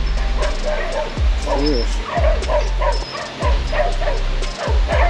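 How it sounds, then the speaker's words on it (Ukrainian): Dogs bark repeatedly in sharp, close yips and woofs at an uneven rhythm, mixed with whimpers, while a low mechanical hum runs underneath, heard while cycling through Zelenyi Hai in Dnipro. "Точно кажу, вас там собаки чекають."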